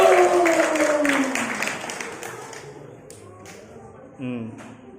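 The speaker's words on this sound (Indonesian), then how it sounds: "Tepuk tangan untuk Banjar Agung." Audience applause at a children's Christmas celebration for the Banjar Agung drama group, a burst of clapping that fades over a few seconds while a voice speaks over it.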